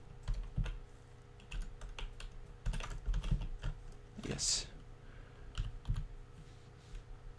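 Clicks from a computer keyboard come in scattered bursts of taps, close and fairly crisp, with short pauses between runs and one brief spoken word.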